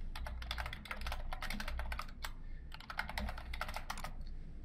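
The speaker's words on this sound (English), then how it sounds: "So I'll be typing in the same username and password as we go along." Rapid bursts of clicking keys on a computer keyboard as a username and password are entered, two clusters of quick taps separated by a short pause, close and crisp over a low hum.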